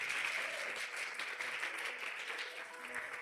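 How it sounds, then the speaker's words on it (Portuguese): A church congregation applauds during a worship service, sustained dense clapping heard from a distance and fairly quiet throughout the short stretch. "Dê um aplauso bem forte ao Senhor."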